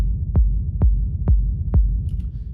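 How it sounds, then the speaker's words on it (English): Four evenly spaced techno kick drums built with Ableton's stock plugins, each a deep, booming thump with a reverb tail, playing alone at a steady tempo. "So that's your basic techno reverb kick"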